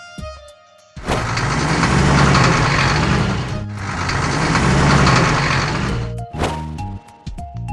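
A garbage truck engine roars loudly and steadily in two long sustained bursts, with a brief dip between them, followed by a sharp clanking thump and a quieter rumble near the end.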